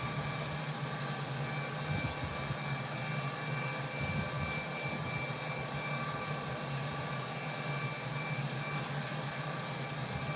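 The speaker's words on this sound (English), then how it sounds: "Flying Delta Airbus A320 over to" Jet engines of a Delta Airbus A320 in Microsoft Flight Simulator 2020, cruising from Phoenix to Los Angeles: a steady, even engine drone with a faint high whine, continuous and unchanging throughout, no talking.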